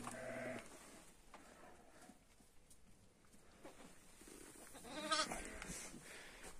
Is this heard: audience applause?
no